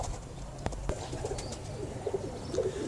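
Pigeons cooing inside a breeding cage, soft repeated low coos close by with a couple of sharp knocks early on, no voices.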